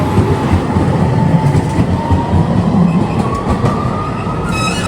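A Strasbourg city tram rolls past with a steady loud rumble and wheel noise, faint squeals rising toward the end.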